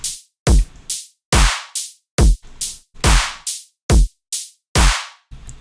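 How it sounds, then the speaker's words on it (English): A punchy electronic drum loop with heavy kicks and crisp, bright hits in a steady, repeating rhythm, about two hits per second, played alone. "And then again, altogether, the drums sound like this."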